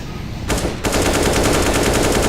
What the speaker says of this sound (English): just empties his magazine into the open